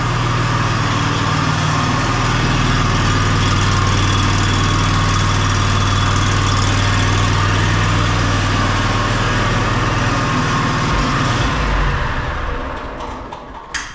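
A repaired used lawn mower engine runs steadily and loudly up close, a constant idle drone for about twelve seconds before it cuts off and the sound dies away.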